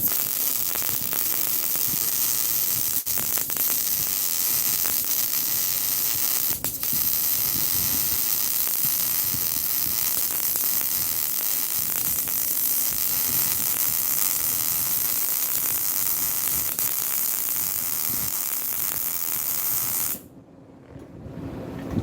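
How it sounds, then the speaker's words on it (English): A bead being welded in a shop, pushing the weld, a steady loud crackling hiss that holds for about twenty seconds before cutting off abruptly into quiet. "I'm gonna push the weld that direction and show you the finish on that."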